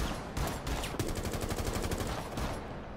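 Dense, rapid gunfire from a Rainbow Six Siege match, steady bursts of shots running loud and continuous through the whole stretch with no voices.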